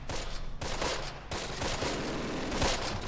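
German guns firing in the Close Combat video game, a rapid burst of gunfire and crackling shots mixed into a dense battle din, fairly loud and continuous with no talking.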